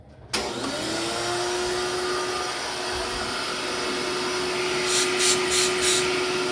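A Bissell PowerForce PowerBrush upright vacuum cleaner switches on abruptly and runs with a steady, loud motor whine, and a few brief rhythmic surges come near the end.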